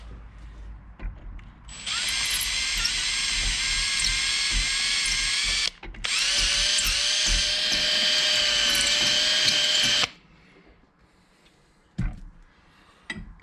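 A small power drill whines loudly in two long bursts, clearing rust from a bore on a Kubota compact tractor, briefly pausing between them, then stops, leaving quiet with a few faint clicks.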